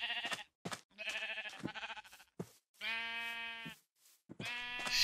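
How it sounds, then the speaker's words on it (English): Several sheep bleating in Minecraft, a run of close, clear, wavering baas one after another with short gaps, and no other sound around them. "this is, of course, the sheep breeding zone."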